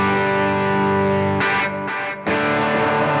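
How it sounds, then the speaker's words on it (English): Electric guitar played through heavy overdrive distortion with delay and reverb, loud sustained chords changing twice with brief gaps, the tone thick and saturated, no voices. "you can hear I have a fair amount of overdrive"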